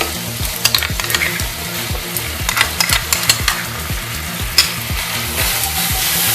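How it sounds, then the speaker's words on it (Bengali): A spice masala with turmeric and whisked yogurt sizzles loudly in the pan while a spoon scrapes through it in a fast, regular stirring rhythm. The sound is close and no one speaks. "ভালো করে কষিয়ে নেবো মশলাটা আগে।"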